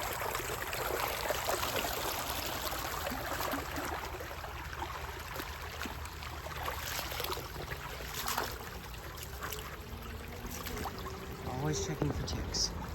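Water flowing in a big lush creek lined with willow roots, a steady broadband rush and trickle that runs continuously, fairly close, with faint outdoor sounds over it.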